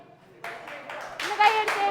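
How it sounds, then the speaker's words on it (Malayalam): Audience clapping at an Onam event, starting after a short quiet gap and building into a lively burst of hands from a nearby crowd, with voices mixed in. "മഞ്ജു ചേച്ചിനെ ഇഷ്ടമുള്ളവരൊന്ന് കൈയടിച്ചേ."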